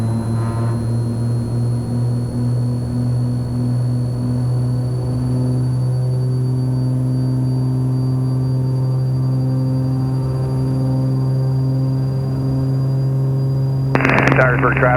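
Twin engines of a Cessna 340 on its takeoff roll, a loud steady droning hum with layered harmonic tones that holds constant, then a burst of bright hiss near the end.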